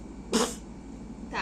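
A single sharp human sneeze bursts out near the mic, followed a second later by a short breathy vocal sound, with quiet room tone between.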